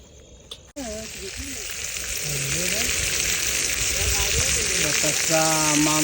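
Mackerel and seer fish (surmai) frying at a campsite near Jaigad lighthouse: a loud, continuous sizzle that swells and holds steady, with voices and other sounds mixed over it.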